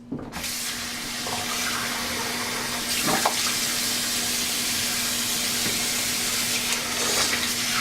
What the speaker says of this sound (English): I'm going to do a quick rinse.